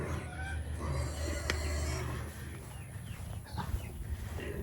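Chickens on a family homestead cluck and murmur amid steady outdoor background noise, with a few scattered calls standing out near the middle and end.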